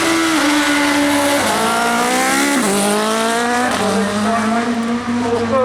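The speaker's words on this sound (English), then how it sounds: "Roger Davis, old school Suzuki, GSXR, 1216cc." An old-school Suzuki GSX-R 1216cc motorcycle launches at the Brighton Speed Trials, engine screaming loud and close as it climbs through several rising gear-by-gear sweeps, each shift marked by a brief dip before the pitch climbs again.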